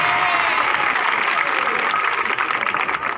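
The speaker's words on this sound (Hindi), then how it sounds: "तो उनको बधाई नहीं देंगे तालियों के साथ साथ?" A school audience claps steadily for the education minister at a foundation-laying event, dense applause from a crowd, fairly loud and continuous for a few seconds.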